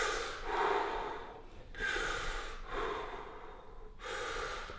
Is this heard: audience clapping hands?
no